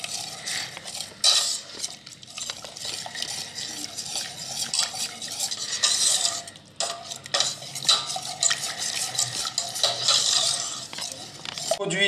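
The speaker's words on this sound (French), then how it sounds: "On va tout mélanger." Ingredients stirred together in a bowl for a French strawberry cake (fraisier), with steady clinking and scraping of a utensil against the dish, close and continuous throughout, with faint background voices at moments.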